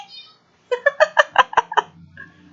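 A run of about seven sharp, bright finch chirps in quick succession, close and loud, after a short soft vocal sound, then fading into quieter background.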